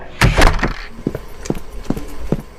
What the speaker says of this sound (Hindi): मैं फिर अंदर आया और दरवाजा बंद कर दिया।